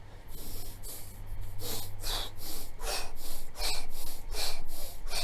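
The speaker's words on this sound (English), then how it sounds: "so I'm breathing in the nose and out the mouth" A person breathing rhythmically in through the nose and out through the mouth during an energy exercise routine, close and clear, with about nine or ten breathy cycles in quick succession and no talk.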